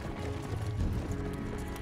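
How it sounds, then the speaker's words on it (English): Galloping horse hooves from the Dynasty Warriors Xtreme Legends video game, a steady run of clip-clop beats layered over busy game audio and music, with no talking. "Jia Tong's got the better horse, too."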